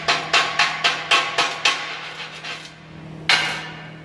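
A hammer chips slag off a stick weld. About eight quick, evenly spaced, ringing taps sound up close, then a pause and one more strike.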